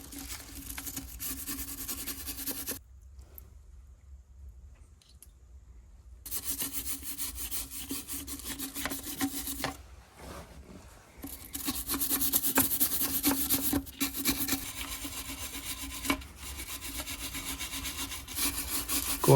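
A steel wire brush scrubs the transmission gear teeth of a Series 3 Land Rover in steady rasping strokes, close and fairly loud, with a couple of brief pauses between bursts.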